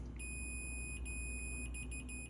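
A multimeter held on a GE refrigerator door switch gives a steady high continuity tone that cuts in and out in short beeps, clear above a low mechanical hum.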